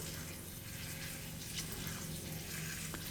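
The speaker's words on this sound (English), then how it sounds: "when you water like this, it kind of like help feed the plant a little" Water poured onto a pepper seedling pot, a steady soft splashing and trickling of water into soil heard close up, with no talking.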